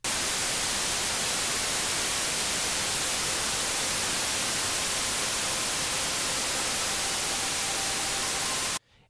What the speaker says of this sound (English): you may not think that that little synth noise is going to make a big difference, but it really does as compared to just working with straight white noise